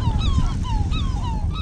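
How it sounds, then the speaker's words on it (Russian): Seagulls squabbling over scraps on a boat in the Barents Sea, with repeated shrill calls rising over a steady low rumble of engine and sea, loud and close. "Сейчас чайки здесь дерутся"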